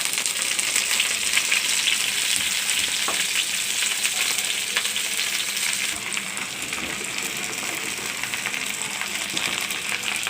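Water spinach (kalmi shak) tossed into a pan with half-fried chillies, frying with a steady, loud sizzle and crackle that holds throughout, with occasional stirring scrapes and no talking.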